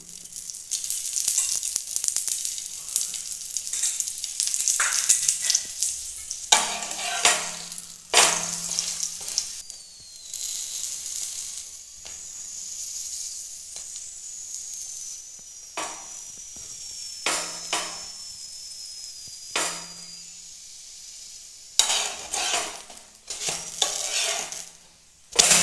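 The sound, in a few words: aloo paratha frying in oil on a pan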